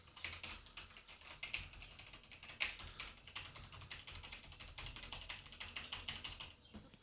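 Keys clatter on a Logitech G910 mechanical keyboard in a fast, continuous stream of close clicky taps, fairly quiet and with no talk.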